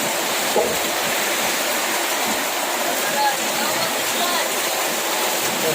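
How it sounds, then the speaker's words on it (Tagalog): A steady, loud rush of water overflowing a full drainage canal runs without a break, with no clear voices above it. "Nilawas na ang tubig sa kanal. Puno ng ganing kanal."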